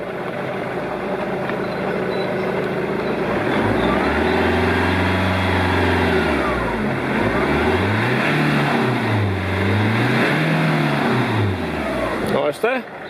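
A car engine revs repeatedly close by as the throttle is opened, its pitch rising and falling in several swelling waves over a steady idle, with a voice talking over it.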